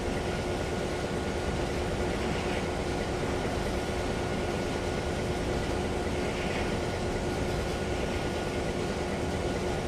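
A train running in the Trainz 2022 railway simulator on an Australian route near Orbost, giving a steady, continuous broadband rumble with a faint hum that holds constant throughout, no voices over it.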